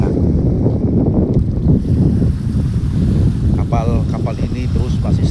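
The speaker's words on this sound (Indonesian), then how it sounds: "Suara gelombang laut yang terus-menerus sangat akrab di telinga" Steady sea waves wash against a moored ship in Indonesia at night, a continuous dense roar mixed with wind buffeting the microphone, with faint voices briefly audible near the end.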